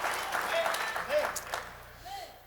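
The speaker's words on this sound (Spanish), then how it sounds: "Dele fuerte ese aplauso al Señor." Church congregation clapping during a Spanish-language sermon, a fairly soft, scattered patter of hands beneath a preacher's voice.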